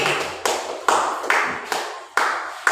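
Applause from a group of people clapping together in a classroom or school setting, a steady burst of many hands with recurring louder swells, fairly close and loud, with no talk over it.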